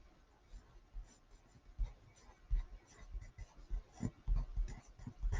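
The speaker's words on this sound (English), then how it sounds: "Then I'm going to write my spelling word in colored pencil." A colored pencil writes a word on paper in a run of soft, scratchy strokes with brief pauses between them, close and fairly quiet.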